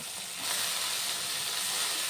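Ingredients frying in a pan for a bottle gourd leaf bharta, a steady close hiss of sizzling oil that holds evenly and swells slightly after the first moment.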